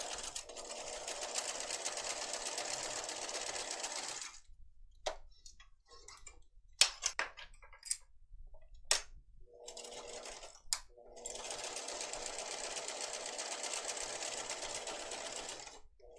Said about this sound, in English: And you'll sew right across there.